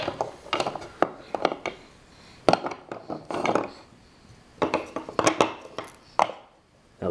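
A utensil stirring food in a pot, giving irregular clinks and scraping knocks in short clusters with brief pauses between them.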